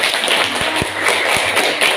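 Steady broadband clapping from an audience at an Islamic talk on memorizing the Qur'an, loud and close, with a few dull thumps mixed in and no talk over it.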